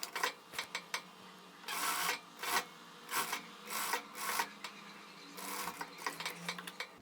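A sewing machine stitches a folded-in-half reinforcement strip along an unfinished edge of a square-neck puff-sleeve blouse, in short repeated bursts of rapid stitching separated by brief pauses, close and fairly quiet with no talking.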